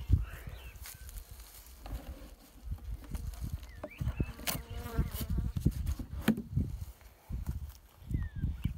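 Honey bees buzz around a beehive outdoors, a fairly faint hum with individual bees droning past near and far, mixed with light knocks and handling noises.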